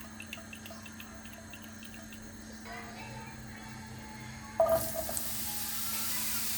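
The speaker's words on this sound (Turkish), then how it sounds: "Ve sıvı yağ koyup kızdırdığımız tavamıza içlerimizi atıyoruz." Vegetable filling tipped into a hot oiled pan for a Turkish baked zucchini dish, bursting into a loud, steady broadband sizzle partway through after a quiet kitchen background with faint ticking.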